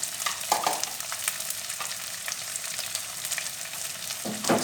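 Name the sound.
onions sautéing in a pan for stingray curry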